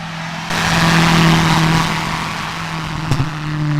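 A car engine roars up suddenly and holds a loud, steady drone with a low hum, dipping slightly before a brief rev near the end, heard alone at close range.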